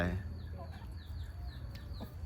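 Chickens cluck in short, scattered calls over a low, steady rumble, with faint voices in the background.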